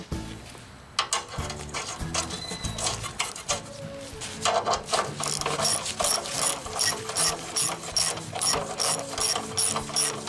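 A hand ratchet clicks rapidly and steadily while snugging the exhaust bolts on a 2013 Subaru 2.5L catalytic converter, a close, loud run of dense metallic ticks with no talk.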